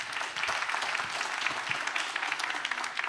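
An audience at a science prize ceremony claps for a laureate, a neurosurgery professor, with sustained, moderately loud applause and a few sharper individual claps poking out near the front.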